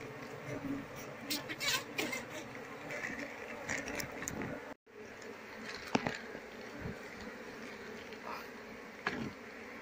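A honey bee colony nesting among a pile of wooden stumps hums with a steady, close buzzing that runs throughout, broken by a brief dropout midway and a few sharp knocks.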